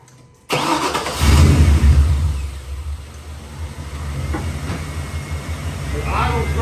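An OBS Ford truck, freshly fitted with a replacement computer, cranks and fires up, then settles into a loud, steady idle with a rumbling low tone, close by and heard alone.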